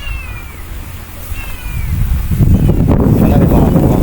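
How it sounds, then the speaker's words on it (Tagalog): Cats meow outdoors: two thin, faint mews come early over wind rumble, followed by louder blustery noise and handling sounds. "Yung mga pusa ayan."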